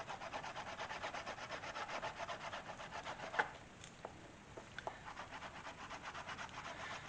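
A burnishing tool works steadily along the edge of a leather kukri sheath after beeswax, giving a continuous close rubbing rasp with a few small taps partway through.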